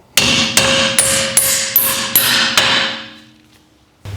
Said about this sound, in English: take a hammer and we're just going to tap that bolt out